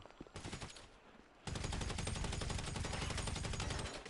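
Rapid automatic gunfire from a PS4 shooter game, starting with a brief burst and then a loud, continuous stream of shots that fills most of the clip.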